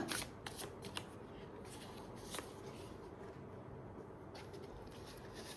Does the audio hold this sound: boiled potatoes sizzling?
no